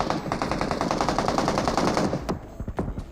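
Bursts of automatic gunfire in PUBG Mobile on the Nusa map, a rapid steady rattle of shots for about two seconds followed by a few separate louder single cracks, with no voices.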